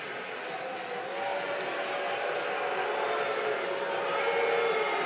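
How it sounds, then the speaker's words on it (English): Crowd in Reynolds Coliseum reacting during a college wrestling match between Virginia Tech and NC State, a steady far-off murmur that swells a little louder partway through. "You hear the crowd. They're seeing it on the big screen here."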